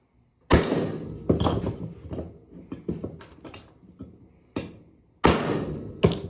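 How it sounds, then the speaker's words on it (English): A homemade splitting blade made from a lawnmower handle strikes copper scrap in a series of sharp, loud metallic blows, some clustered and some spaced out, each ringing briefly before fading. "Let's see if I can split it with my new splitting blade"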